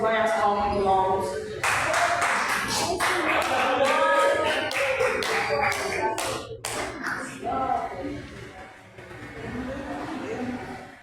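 A church congregation claps in rhythm during a worship service, broken bursts of hand claps mixed with voices and singing that run throughout.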